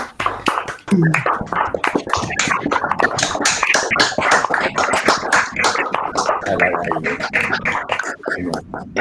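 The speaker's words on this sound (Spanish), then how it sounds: "invito a todos los colegas a abrir sus micrófonos y dar un aplauso para Patricia." Participants in an online seminar applaud through their open microphones: a rapid, uneven patter of many overlapping claps that stays close and fairly loud throughout.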